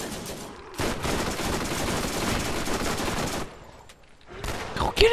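Turret gunfire in the Borderlands video game, a dense sustained burst of rapid shots rattling for several seconds, then a short lull before more firing resumes near the end.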